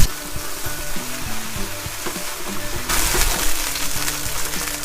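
Homemade potato gnocchi frying in rapeseed oil in a very hot pan, a constant close crackling sizzle that suddenly grows louder and brighter about halfway through, with faint low tonal sounds underneath and no speech.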